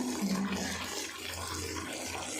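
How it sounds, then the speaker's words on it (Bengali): Water runs and sloshes softly as ash gourd lentil paste is rinsed and washed by hand. The quiet, steady wash continues throughout with no talking. "এটাকে মা আবার ধুচ্ছে ভালো করে, ধুয়ে নিচ্ছে ভালোভাবে"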